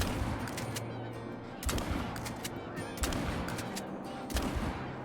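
Shotgun blasts aimed at a flock of geese during a hunt, three sharp reports spaced about a second and a half apart, moderately distant, over a low steady background hum and faint murmur.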